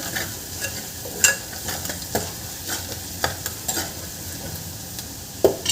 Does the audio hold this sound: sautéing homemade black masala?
yes